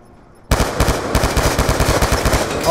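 Rapid automatic gunfire in the video game Black Ops 2 Gun Game, a loud, close burst of dense repeated shots that starts suddenly and continues without pause.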